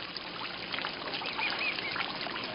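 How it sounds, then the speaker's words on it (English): Ducks or geese honk and call outdoors over a steady background of trickling water, moderately near and continuous without talking. "I hear the birds."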